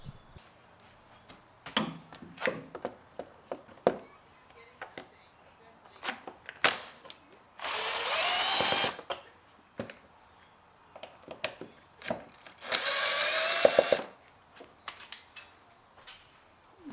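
Phillips screws are worked loose on the air filter cover of a Buick Encore, making faint close clicks and small ticking scrapes, with two longer bursts of whirring, likely from a power driver.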